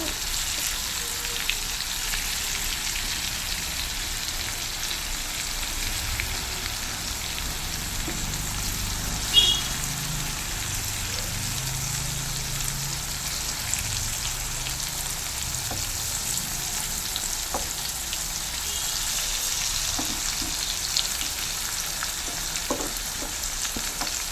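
Choora tuna pieces frying Kerala style in a pan of hot oil, a continuous close crackling sizzle with scattered pops throughout, no voices.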